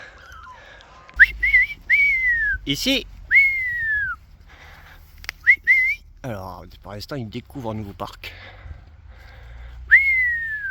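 Sharp rising-then-falling whistle calls to Borzoi puppies repeat every second or so, interspersed with someone speaking nearby, loud and close.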